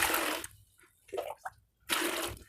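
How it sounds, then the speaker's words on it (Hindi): Tap water runs into an empty bucket for washing a linen shirt, two loud splashing bursts of pouring separated by a short pause with small drips and clinks, close up and with no talking. "नॉर्मल पानी आवश्यकता के अनुसार इसमें ले लेंगे, जितने में ये शर्ट अच्छी तरीके से डूब जाए।"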